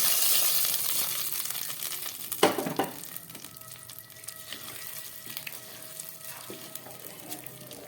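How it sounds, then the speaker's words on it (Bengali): Hot spiced tempering poured into a pot of vegetarian khichuri gives a sharp burst of sizzling, then a steady crackling fry that slowly settles, close and clear with no talking. "খিচুড়ির মধ্যে আমি ফোড়নটা ঢেলে দিচ্ছি"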